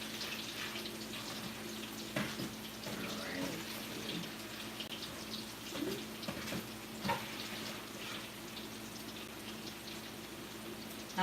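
Fried fish being scooped and slipped into a salt water mix in a home kitchen, with steady faint splashing and trickling water, small drips and a low background hum throughout, no voices.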